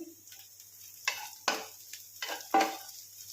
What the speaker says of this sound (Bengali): ভালো করে এটা ভাজা হয়ে গেছে